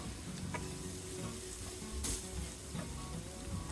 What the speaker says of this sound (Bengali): এক মিনিটের মতো ভেজে নেব চুলার আঁচটা আমি বাড়িয়ে দিয়েছি